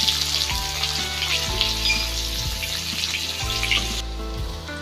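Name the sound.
chopped onions frying in oil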